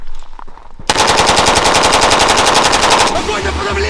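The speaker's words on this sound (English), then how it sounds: "Bulgarian AK-74" A Bulgarian AK-74 rifle fires a single loud, close burst of rapid, evenly spaced automatic shots lasting about two seconds, followed by a brief ringing tail.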